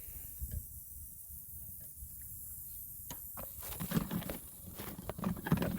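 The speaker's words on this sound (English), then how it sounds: "Gotta protect my camera from that rain though." Steady soft hiss of rain pattering down, with a few louder taps and drips near the end and no voices.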